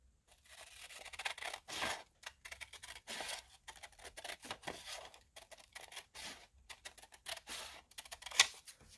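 Scissors cutting out paper collage labels, a run of crisp irregular snips and rustles close by with short gaps between strokes.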